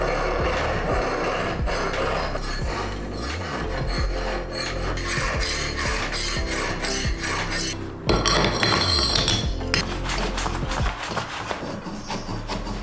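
A hand file rasps back and forth across a small metal part for an electric motorbike build, each stroke loud and close in a steady rhythm, with a slightly harder burst partway through.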